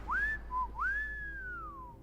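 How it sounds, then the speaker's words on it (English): A character in the video game Crime Scene Cleaner whistles a short tune: two rising-and-falling whistled notes with a brief chirp between, clear and close over a faint low hum, with no talking. "Is that me whistling?"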